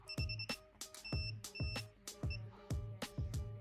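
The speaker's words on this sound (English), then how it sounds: "there's a buzzer in there as well" A buzzer on a quadcopter drone build beeps in quick, repeated bursts of short electronic tones with mechanical clicks, forming a steady, close pattern with no talking.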